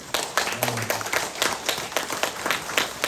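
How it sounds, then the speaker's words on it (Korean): A congregation at a Catholic parish Saturday Holy Spirit prayer meeting for Pentecost claps in a steady, fairly soft burst of applause lasting a few seconds. "박수 한번 쳐야 되겠죠?"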